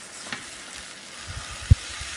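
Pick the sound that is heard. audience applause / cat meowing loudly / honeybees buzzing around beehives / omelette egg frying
omelette egg frying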